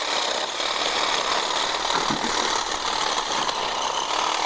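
Einhell cordless hedge trimmer, a mid-size model with a 55 cm bar and brushed motor, cutting branches about a centimetre thick; a steady, loud motor drone runs throughout with a brief change in tone near the middle, no talk.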